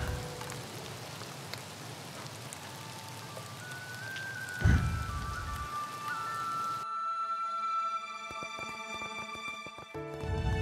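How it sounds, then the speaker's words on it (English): Steady rain in the Craftopia video game falls as a continuous hiss, with a brief thump midway and a shift to a sparser, tonal game soundscape near the end. "So I'd like to point out that it's raining again."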